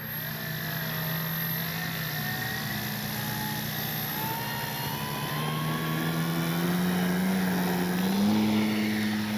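A CNHL Bison XT RC bush plane flies on its maiden flight, its electric motor and propeller giving a steady droning whine that rises and falls in pitch with throttle changes, close and continuous with no talking.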